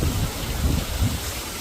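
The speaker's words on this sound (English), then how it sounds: "I think this was just a quick 30-minute storm, so we're waiting it out." Steady rainstorm over a roofing job site near downtown, a continuous wash of rain noise with low rumbling swells that may be distant thunder, fairly loud and unbroken, no voices.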